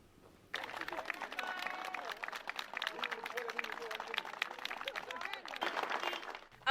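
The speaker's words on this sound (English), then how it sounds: "Applause will be the new norm every Wednesday at noon as Kenyans across the country temporarily halt the activities to clap for essential service providers" People across Kenya pause to clap for essential service providers during the COVID-19 period, a sudden burst of many scattered hands that continues steadily with some voices mixed in.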